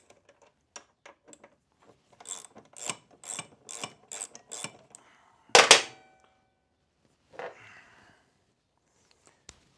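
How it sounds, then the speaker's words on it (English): A 12mm socket wrench loosens the front brake caliper bolts on a Kawasaki 250 Ninja, giving a run of about six sharp ratcheting clicks, then one louder crack as a bolt breaks free and a brief rasp after, close up with no talking. "To remove your front caliper, take your 12mm socket. Lefty-loosey these both out of here."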